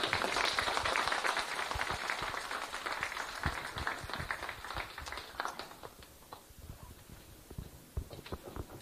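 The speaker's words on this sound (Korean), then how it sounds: "오늘 제가 큰 박수로 김윤수 교수님 모시도록 하겠습니다." Audience applause in a lecture hall greets Professor Kim Yun-su, a dense wash of clapping that starts strong and thins gradually into scattered, sharper individual claps toward the end.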